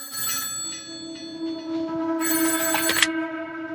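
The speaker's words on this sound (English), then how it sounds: "the day before the shooting took place, she had gotten a phone call from Jackie." A telephone bell rings in clear bursts, a short ring followed by a longer one, loud and near over a quiet, steady background hum.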